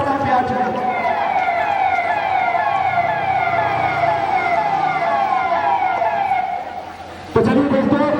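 A wailing siren on the governor's car arriving at the steps during an Independence Day play event, loud and close with a repeating rising and falling pitch, then a sudden burst of louder noise near the end.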